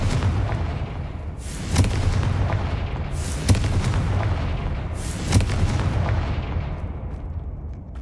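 Three sharp blasting-spell explosions from Hogwarts Legacy ring out about two seconds apart, each a loud boom with a hissing tail, over a low ambient game rumble.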